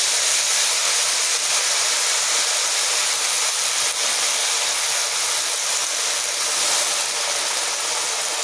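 Leafy greens, added to a pan with salt, sizzle and fry in a loud, steady broadband hiss that carries on unbroken throughout, up close and with no voices over it.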